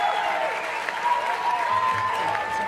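A crowd applauds and cheers at a live evening event, a dense, steady wash of clapping that holds at even strength throughout, with no voice speaking over it.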